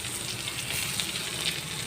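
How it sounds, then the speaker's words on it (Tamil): Onions sauté in sesame oil in a pan for vegetable wheat rava upma, a steady close hiss and crackle of frying that continues without a break. "வெங்காயம் வதங்கிட்டு இருக்குங்க"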